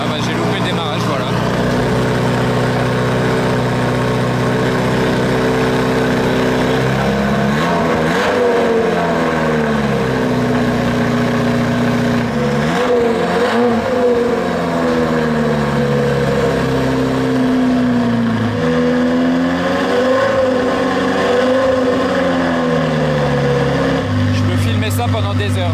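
A Ferrari F40 engine idles and revs repeatedly at an RM Sotheby's car auction in Paris, a loud, close mechanical roar rising and falling in pitch, with people talking nearby.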